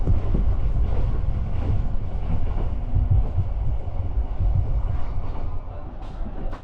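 A long-distance passenger train on the Saigon to Hanoi line rumbles and clatters steadily from inside a carriage, with deep low rolling noise and some wind buffeting, and no clear speech.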